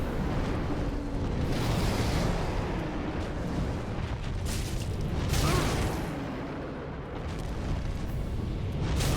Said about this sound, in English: Magic explosion, burst bubble of eternity.